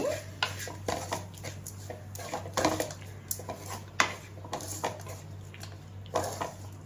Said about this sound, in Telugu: రైస్ వేసుకున్నాక స్టవ్ ఆఫ్ చేసి ఇలా బాగా కలుపుకోవాలి